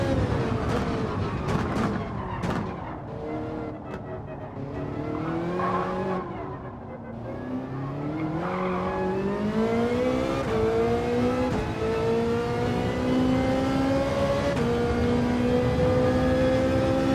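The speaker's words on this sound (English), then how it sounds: "That's why you turn the squeal up on the wheels, on the tyres." Tyre squeal from a car in Gran Turismo 7, a rising tonal whine over a revving engine, with scrubbing squeals and gear changes building steadily across the lap.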